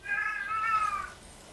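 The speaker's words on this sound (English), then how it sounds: "It's just a horny cat" A cat gives a single drawn-out, loud meow lasting about a second, with a raised, strained pitch that sounds like a cat in heat, close by and alone with no talk over it.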